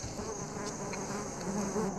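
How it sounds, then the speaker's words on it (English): A swarm of bees defending their hive inside a marula tree sets up a steady, dense buzzing hum that holds evenly throughout, close and continuous with no talk. "They swarm out to defend their hive, but the badger is undeterred."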